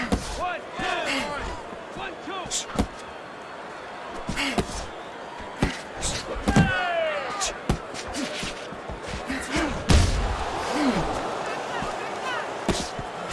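Boxing punches from the Fight Night Champion game, Sugar Ray Leonard against Sugar Ray Robinson, land as scattered sharp thuds and slaps over a steady crowd murmur, with commentary running throughout.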